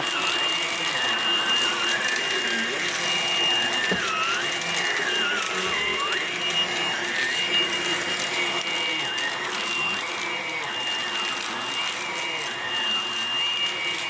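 A Hoover Blade Plus vacuum cleaner runs steadily on carpet throughout, a continuous motor whine with shifting pitch as it works over the surface, no voices.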